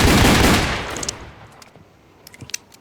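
Gunfire from a gun in the Roblox Wild West game: a loud, close burst of rapid shots booms and fades over about a second, followed by a few faint scattered clicks and taps, with no voice over it.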